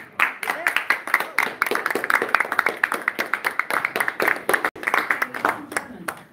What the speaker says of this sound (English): we really try to refrain from the applause because it takes away from the time